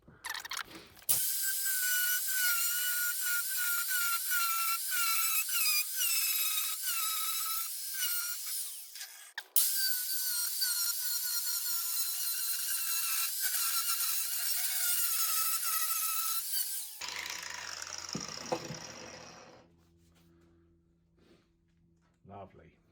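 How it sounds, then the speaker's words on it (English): Power tool cutting metal for a homemade coal cage: a loud, sustained, close-up high-pitched grinding whine with a brief break near the middle, then it stops and softer handling sounds trail off. "So here we go, let's start cutting."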